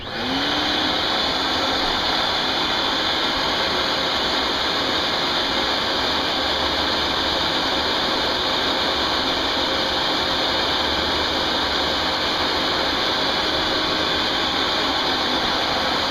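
A wood lathe runs steadily while turning a bamboo-design Native American style flute, producing a loud, continuous whirring hum with a rough, scraping texture that holds unchanged throughout.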